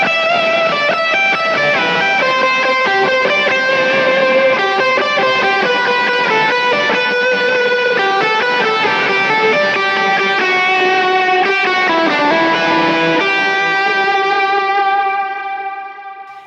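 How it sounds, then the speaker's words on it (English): A heavily distorted electric guitar lead tone from a Kemper amp preset plays loud and sustained, its notes smeared by layered delays and reverb trails, chaotic drive with melodic lead lines on top, fading out at the very end. "it's basically a very dirty lead tone, and it's a lot of delays and reverbs pushing the front of the amp"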